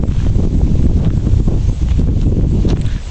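Strong wind gusts steadily across the microphone at a kilo guava plantation, a continuous loud rumbling buffet with no pause.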